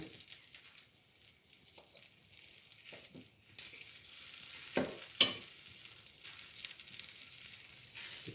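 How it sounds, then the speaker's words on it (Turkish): Sucuk sausages sizzle and crackle steadily in a frying pan while being turned, with scraping and stirring clatter over a continuous close hiss and no talk. "Şimdi sucukların bu tarafını çevireceğim"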